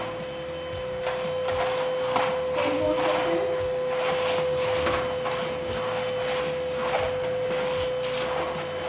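A vacuum cleaner runs steadily across a floor being readied for laminate flooring, a continuous close whirring drone with a constant tonal hum and faint shifting rhythm from the strokes.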